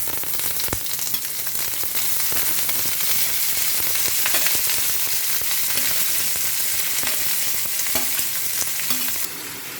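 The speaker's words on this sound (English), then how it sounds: "Alright, I'm stir frying this right now." Vegetables with garlic, broccoli, spring onion, ginger and capsicum stir-frying in a pan, a loud continuous sizzle with scattered clicks and scrapes of stirring, no talking.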